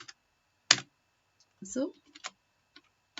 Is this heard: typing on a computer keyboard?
yes